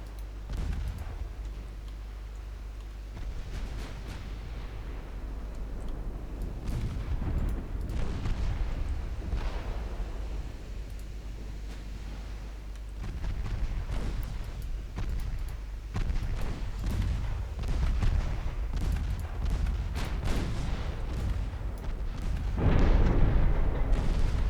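Warship guns firing during a 1914 Norwegian naval battle in Ultimate Admiral Dreadnoughts: a long stretch of repeated booming salvos and scattered cracks over a continuous low rumble, growing denser and louder toward the end.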